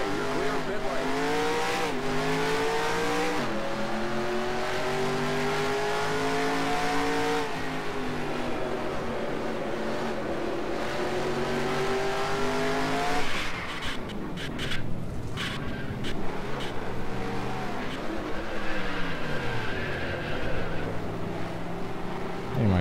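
A race car engine drones through rising and falling revs in the NASCAR Racing 2003 video game, with the pitch sweeping up through gears, shifting abruptly, and brief tire scrubbing and rattles mid-run, loud and continuous throughout.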